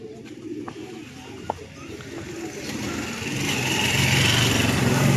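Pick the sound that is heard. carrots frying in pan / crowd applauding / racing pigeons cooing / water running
racing pigeons cooing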